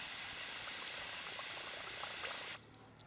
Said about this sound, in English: I'll do a little back flush again.